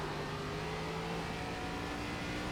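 An ARCA stock car in the iRacing sim racing game drones at steady throttle, a loud, constant engine tone with a sustained pitch throughout.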